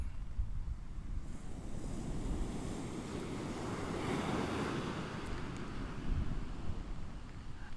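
Sea waves break and wash along the Hornsea shore on the Holderness coast, a broad rumbling surf roar with wind buffeting the microphone, steady throughout with slight swells, no voices.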